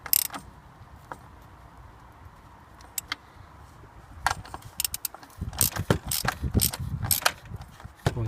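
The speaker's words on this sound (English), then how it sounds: "tighten them up. Not too tight, because they're going into aluminium on the inlet manifold there." A ratchet tightens bolts on the aluminium inlet manifold of a Land Rover Freelander 2, giving scattered sharp metallic clicks in quick bursts, close and fairly quiet, with soft handling noise between strokes.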